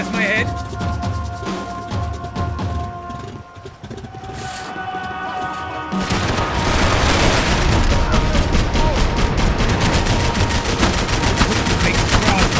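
Dense gunfire from Max Payne 3, loud and sustained, with rapid bursts growing heavier in the second half, bullets whizzing amid the din and a voice heard faintly underneath.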